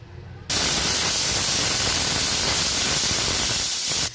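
Pressure cooker whistle on a kitchen stove, one loud continuous hissing blast that starts abruptly and holds steady for about three and a half seconds before cutting off.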